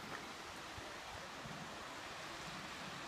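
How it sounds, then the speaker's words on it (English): Meltwater waterfall pouring out of a glacier high on Mt. Hood, a steady, distant, broadband rush with no breaks. "Waterfall coming out of a glacier all the way up from up there."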